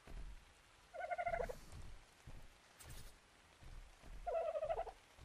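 Chicken in Ark: Survival Evolved gives two short bursts of clucking, one early and one near the end, each clear over a quiet game background.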